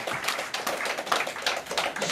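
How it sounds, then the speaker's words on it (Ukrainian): An audience at a creative show applauds a performer, a steady wash of many hands clapping from a moderate distance, fairly soft and even throughout. "Ваші оплески Каті!"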